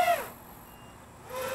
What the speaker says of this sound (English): Did you hear that beep? I think that might have been low voltage already.